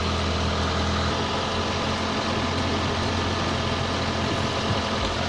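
A Proton Waja MMC engine idling at about 1200 rpm while warmed to operating temperature, with a steady, loud, even hum and a low rumble that shifts slightly a little after the start.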